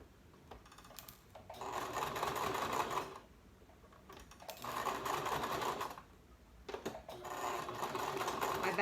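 A sewing machine back stitching elastic onto a medical mask runs in three rapid mechanical bursts of needle chatter, each lasting a second or two, separated by short quiet pauses, close and moderately loud.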